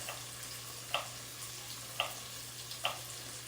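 Chopped vegetables frying in butter give a soft steady sizzle, with a few brief clinks and taps of a utensil against the pan breaking through at intervals and a low hum underneath.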